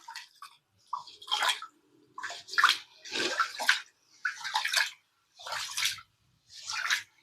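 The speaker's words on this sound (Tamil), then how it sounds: "இது தண்ணி விட்டு நல்லா 2-3 மட்டும் கழுவி எடுத்துக்கலாம்." Repeated bursts of sloshing, splashing water as soaked rice for idli is rubbed and rinsed by hand in a bowl, in steady rhythmic strokes with brief pauses.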